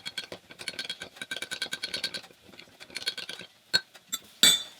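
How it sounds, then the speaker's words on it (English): Spoon stirring cold water into sweet and sour sauce, a quick series of light clinks and rattles against the container in a steady rhythm, close up, ending with a few sharper taps. "And then you just stir it around a little bit."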